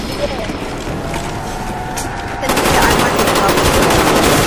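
Rapid gunfire in a first-person shooter video game, steady loud bursts that grow denser and fuller partway through and continue to the end.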